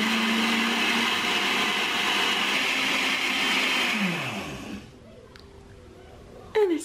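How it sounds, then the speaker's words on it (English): A kitchen blender whirs loudly and steadily as it blends a keto breakfast shake, then winds down and stops, its pitch sliding lower as the motor coasts to silence, followed by a brief clatter. "let's blend this baby up for a little yummy shake"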